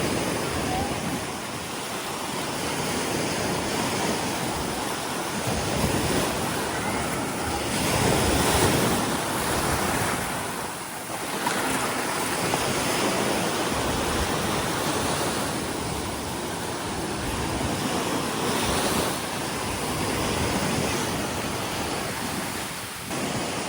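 Ocean waves wash over the sand on Boracay beach in the Philippines, a steady, loud surf roar that swells and recedes, mixed with wind buffeting the microphone and no clear talking.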